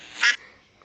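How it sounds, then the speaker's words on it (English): A single domestic duck gives one short, loud quack, followed by a faint quiet background. "Duck quack."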